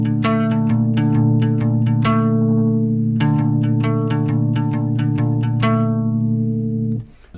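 An arpeggio played on a bass guitar: repeated plucked notes in a steady pattern over a ringing low note, a chorus-tinged tone that ends abruptly near the close, with no talking.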